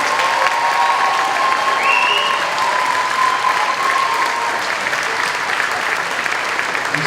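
Audience at an honors convocation applauding students, a dense, sustained round of clapping from a large crowd filling the hall without a break.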